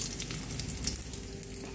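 Cumin seeds and whole garam masala hit hot oil left from frying paneer, giving a steady, close, crackling sizzle with no voices.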